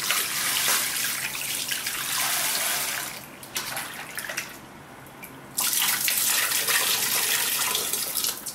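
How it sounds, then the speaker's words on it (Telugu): Raw liver pieces are rinsed under a running kitchen tap, a loud steady gush of water splashing continuously, briefly quieting in the middle before pouring strongly again. "ఇప్పుడు మనం దీన్ని శుభ్రంగా కడిగేసుకుందాం."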